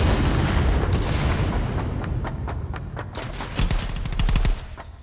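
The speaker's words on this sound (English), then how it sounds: "Out go the frags." Frag grenade blasts and rapid gunfire during a ContractorsVR match, a dense continuous barrage of loud close shots and booms with a burst of sharp cracks near the end.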